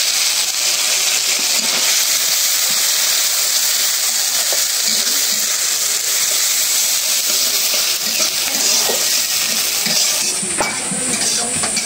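Oil sizzling in a pan after fish has been fried in it for a Bengali home-cooked curry: a steady, loud frying hiss that runs unbroken throughout, with faint stirring and utensil clinks.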